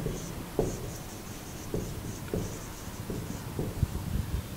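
Writing on a board during a Class 12 coordination chemistry lecture, with faint scratchy strokes and light taps recurring irregularly over steady room noise and no talking.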